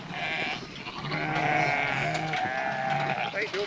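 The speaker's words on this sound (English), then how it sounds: "Seeing a group of farmers tending to their sheep" Sheep bleating on a Scottish farm while farmers tend the flock: several overlapping, wavering bleats close by, continuous for a few seconds, with a voice talking underneath.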